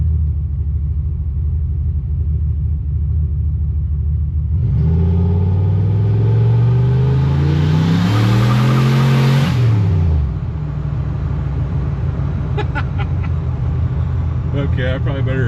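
Turbocharged Chevrolet Silverado pickup engine revving hard while driving, a deep rumble climbing in pitch through a loud surging rev and then dropping back to a steady drone, close and loud.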